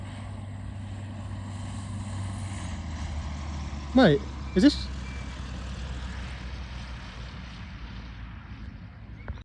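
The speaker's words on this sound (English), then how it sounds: "you see a little Cessna coming into land" A small Cessna light aircraft comes in to land on an airstrip beside a golf course, heard as a steady low engine drone with two brief sharp whooshes midway, while people talk nearby.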